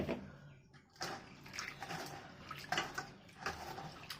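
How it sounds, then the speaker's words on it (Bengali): Mixed lentils, including split chickpeas, are swished and rinsed in water by hand, giving a continuous close sloshing and splashing with rhythmic surges throughout. "ডালগুলোকে এবার পরিষ্কার করে আমি ধুয়ে নেব।"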